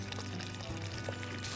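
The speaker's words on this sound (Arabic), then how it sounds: "ونحط شوية ميه بقى." Water poured into a pan of frying chicken, a soft continuous pouring splash, faint and close.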